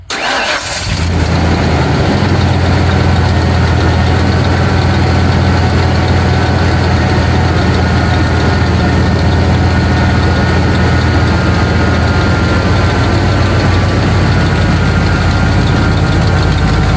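A car engine starts with a brief crank, then settles into a steady, loud idle that runs evenly with no one speaking. The car has just had its water pump replaced.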